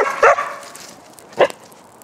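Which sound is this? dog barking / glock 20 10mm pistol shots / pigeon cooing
dog barking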